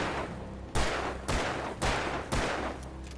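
Four loud, evenly spaced gunshots boom in the Alan Wake video game, each a sharp broadband blast with a short decaying tail over a low rumbling background, with no talking.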